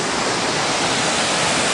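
Big Falls in Forest Falls, California, rushing as a steady, loud, dense roar of falling water close by, unbroken throughout with no voices.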